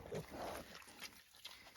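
Pigs grunt softly while eating grass on an off-grid homestead, faint low snorts and rustling up close over a short stretch.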